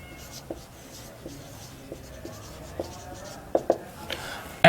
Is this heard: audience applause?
no